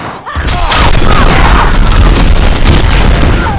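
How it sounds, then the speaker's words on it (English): Loud, dense booming blasts from Batman's gun in the fighting game Injustice, a continuous heavy barrage right up close that fills the whole moment, with no voices. "Batman will use a gun"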